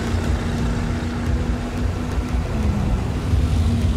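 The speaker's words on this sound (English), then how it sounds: "Oh, she's driving now." Car driving in the video game Battlefield 4, a loud, steady engine rumble with road noise, continuous and close throughout.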